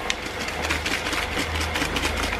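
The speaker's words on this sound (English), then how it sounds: "Sorry about the noise from the kettle." An electric kettle heating water in a home kitchen gives a steady, rushing roar with a low hum, continuous and fairly loud, with no talking.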